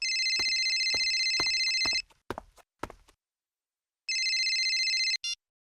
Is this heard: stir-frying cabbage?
no